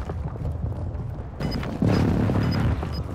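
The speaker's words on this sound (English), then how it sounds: "Hostile airstrike incoming." A deep booming airstrike explosion in a video game, a low rumbling blast swelling midway through and lingering, with faint beeping tones above it.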